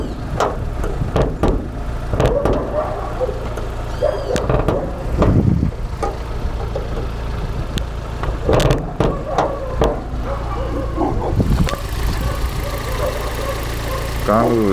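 A 2008 Fiat Palio engine idles steadily with the hood open, heard up close. Someone talks over the running motor, and there are occasional handling noises.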